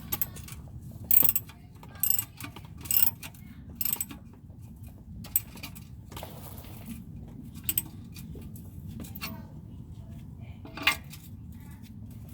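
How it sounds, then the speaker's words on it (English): A socket wrench ratchets to tighten an oil drain bolt during an oil change, giving several short bursts of metallic clicking spaced through the clip over a quiet, low background hum. "we want to go ahead and get the socket, and we're gonna tighten the the bolt back up"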